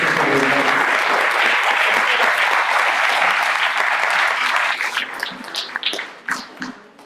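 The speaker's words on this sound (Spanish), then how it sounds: "Les pido por favor un aplauso como bienvenida." An audience at a keynote lecture on photography and mathematics gives dense, steady applause welcoming the lecturer, thinning into scattered claps over the final seconds.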